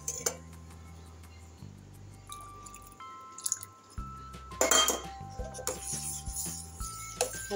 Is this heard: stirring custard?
yes